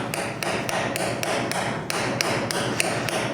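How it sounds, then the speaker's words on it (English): A wheel bearing for a motocross or enduro bike is driven in with a hammer on an installation socket, a close series of about a dozen sharp metallic strikes in a fairly even rhythm, with no talking. "You're going to have to hit it just a little just to get it to start. And hit your bearing installation socket."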